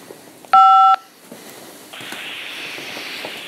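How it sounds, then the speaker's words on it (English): Telephone keypad press gives a single loud DTMF tone lasting about half a second on a prison phone line, followed by quieter line hiss and faint clicks. "Hang up to decline the call or to accept. Dial 5 now."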